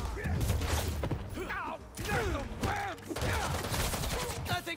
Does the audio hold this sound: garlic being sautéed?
no